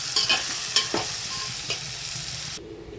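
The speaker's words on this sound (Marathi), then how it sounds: "आता हे मसाल्यात परतून घ्यायचं चांगलं." Potatoes and peas are sautéed in masala in a pan, with a steady close sizzle and a few sharp spoon scrapes and knocks. The sound cuts off abruptly near the end.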